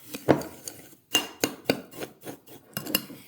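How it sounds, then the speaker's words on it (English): Panko breadcrumbs are stirred into melted butter in a dish, giving a series of close scraping and clinking strokes in an irregular rhythm. "So we're just gonna add the 1 cup panko breadcrumbs into that 2 tablespoons of butter."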